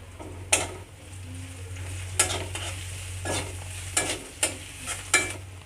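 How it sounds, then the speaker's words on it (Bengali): Leaves frying in a pan over a gas stove, a soft steady sizzle broken by several sharp scrapes and clinks as a spatula stirs them every second or so. "তো বন্ধুরা পাতাগুলো বেশি কড়া করে ভাজবো না"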